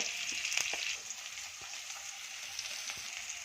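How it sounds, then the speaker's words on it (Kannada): Onions frying in oil in a pan, a bright crackling sizzle that is loudest in the first second and then settles into a steady hiss with a few faint ticks. "ಎಣ್ಣೆ ಹಾಕ್ಕೊಂಡಿದ್ದೀನಿ ನೋಡಿ ಈರುಳ್ಳಿ ಹಾಕ್ಕೊತ ಇದ್ದೀನಿ"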